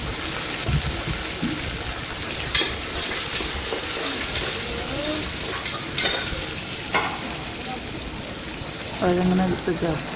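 Shallots sizzle and fry in a pan with curry leaves and green chili, a steady crackling hiss with occasional stirring scrapes, while a person talks over the cooking.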